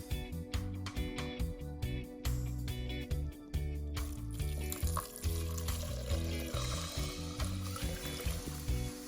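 Water and beef broth pour into a soup pot for mushroom-barley soup, a continuous gurgling stream that shifts in tone midway as the second container empties, close and steady, with a low hum underneath.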